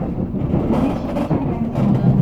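Korail Donghae Santa train (No. 4896, Gangneung to Buncheon) arriving at Jeongdongjin station by the sea: a steady low rumble of rolling rail cars with wind buffeting the microphone, continuous and fairly loud throughout.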